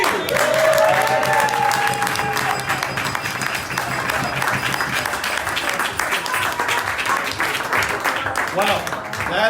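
A dense crowd applauds steadily throughout at a Staten Island Rotary Club charter night celebrating the club's 100th anniversary, with voices and cheering mixed into the sustained clapping.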